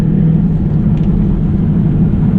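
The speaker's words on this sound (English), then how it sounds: "Road noise is very, very prominent. It is quite loud in here." Loud, steady low rumble of tires on the road inside a moving 2001 Pontiac Trans Am with stock suspension, a constant droning roar with no breaks.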